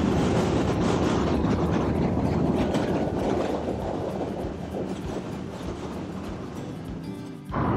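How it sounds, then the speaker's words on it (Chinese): A New York subway train crossing the Manhattan Bridge, a loud, close rumbling roar with rattling wagons that slowly fades as it passes, ending in a sharp clatter near the end. "这个地铁过去之后，"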